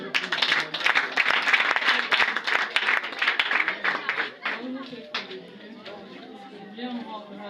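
Congregation at a church testimony service clapping and applauding, dense rhythmic claps for about four seconds before fading, with voices and talk underneath.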